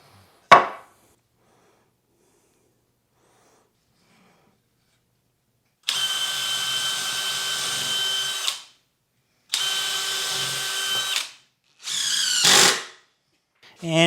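Power drill driving screws into wooden shop shelving pieces, a sharp knock followed by two sustained whirring bursts and shorter revving pulses separated by silence, close and loud.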